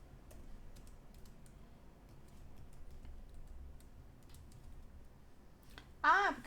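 Code is typed on a computer keyboard in quick, light clicking bursts, close and fairly quiet, with a brief voice at the very end.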